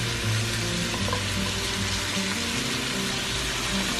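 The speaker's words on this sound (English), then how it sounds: "So I already have the oil right here. I'm gonna add this little bit of onion" Chopped onion frying in hot oil for a shrimp and beef rice dish, with a dense, steady sizzle that stays close and loud throughout, with no talking.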